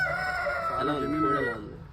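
A rooster crows loudly and close by, one drawn-out call that trails off at the end.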